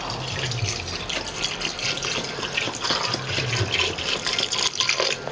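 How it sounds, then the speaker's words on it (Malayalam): Water is poured from a tap or vessel into a pot of Kerala-style roasted-coconut pork curry, a continuous close splashing gush lasting several seconds with no talk. "ഇനി ഇത് വേകാൻ ആവശ്യത്തിനുള്ള വെള്ളം ഒഴിച്ചു കൊടുക്കാം"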